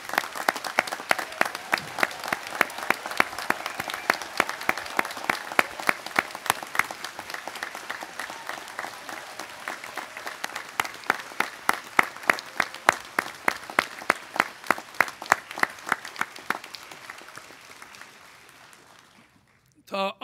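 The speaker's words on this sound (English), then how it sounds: "give a final special round of applause to all our graduates" Audience applause for graduates at a Griffith College graduation ceremony, a long sustained round of many hands clapping in a dense even patter, moderately near, gradually thinning toward the end before stopping.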